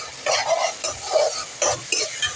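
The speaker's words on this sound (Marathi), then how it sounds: "मस्त व्यवस्थित त्या पेस्टला तेल सुटेस्तोवर ना परतून घ्यायचं आहे आपल्याला हे" A spice paste is sautéed in oil in a pan, several short bursts of sizzling with scraping stir strokes at an irregular rhythm, close and fairly loud, no talk.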